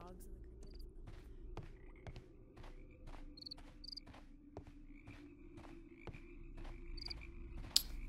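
Frogs croak in a flooded area of a mystery deduction video game, a steady chorus of repeated croaks and chirps with insect-like trilling over a low ambient bed, moderately loud throughout.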